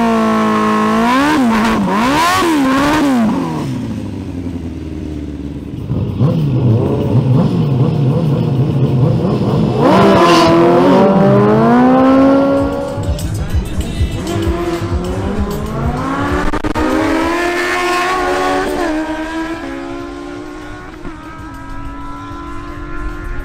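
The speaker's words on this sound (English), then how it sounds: "a showdown between Lennox Solano on the Suzuki GSX-R1000 and George Carlini on the Kawasaki Ninja ZX10R" Suzuki GSX-R1000 and Kawasaki Ninja ZX10R superbikes in a drag race, loud engines revving hard and rising through the gears as they pass, with a continuous roar and sweeping pitch changes throughout.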